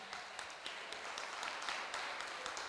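A faint, distant crowd of schoolchildren and adults applauding at a campaign kickoff event, steady patter of many hands with occasional louder claps.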